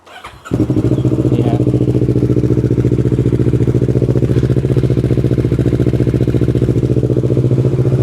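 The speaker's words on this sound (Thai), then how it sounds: "เดี๋ยวมาฟังเสียงท่อกันไปด้วยนะ" A Kawasaki ER6N motorcycle fires up with a short starter crank, then its engine settles into a loud, close, steady throbbing idle through the exhaust with an even pulsing rhythm.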